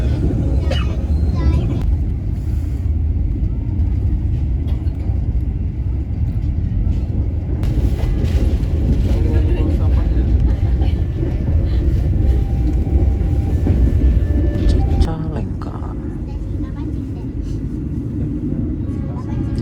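Inside an economy carriage of the KA Cikuray train, seated near the bogie, a loud constant rumble of wheels and rails fills the space, with some clacks and a shift in tone toward the end.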